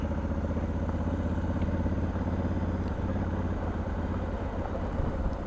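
A Honda Africa Twin motorcycle riding on a gravel road in its lowest power setting, a steady loud engine drone with constant low rumble and crunching gravel clatter, heard alone without talk.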